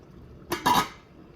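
A quick metallic clatter and clink as a lid is set onto a pot of cooking zucchini relish, two close bursts then quiet.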